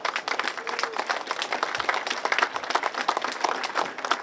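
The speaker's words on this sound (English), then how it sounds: "Please join me in a round of applause." A crowd at an outdoor school building topping-off ceremony claps in steady, dense applause that holds evenly from start to finish, moderately loud with no talking.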